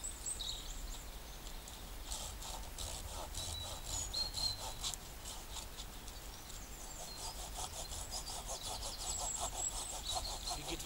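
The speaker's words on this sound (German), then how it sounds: "Die geht wesentlich einfacher durch das Holz." A Lidl folding saw from 2014 cuts through wood in quick, even back-and-forth rasping strokes, a steady rhythmic sawing that runs for about eleven seconds, close and moderately loud with no talk.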